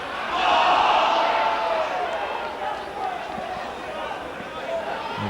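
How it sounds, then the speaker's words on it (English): A football crowd at a 1991 Halifax Town versus Chesterfield match roars in a loud, sustained shout appealing for handball, swelling early and then easing into a steady murmur, with commentary over it. "A big shout from the crowd of handball."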